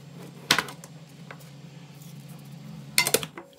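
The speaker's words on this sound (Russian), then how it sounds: "Все это перемешиваем." Clinks of a utensil against a bowl while egg and a pinch of salt are stirred into pie batter, two brief bright knocks several seconds apart over a quiet room hum.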